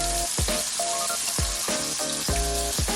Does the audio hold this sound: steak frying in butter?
yes